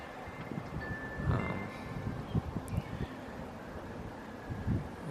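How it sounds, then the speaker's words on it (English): Wind buffets the bare microphone of a Canon G7X Mark II compact camera with no windmuff fitted, a continuous low rumble broken by soft irregular thumps and gusts at moderate level, with no speech. "Yeah, some wind coming right now."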